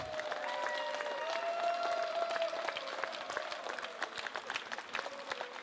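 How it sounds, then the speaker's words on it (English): At an awards ceremony for a rescue challenge, an audience applauds steadily for the Holmatro team in a dense wash of clapping, while music or tonal sounds run underneath. "Applause for the Holmatro team."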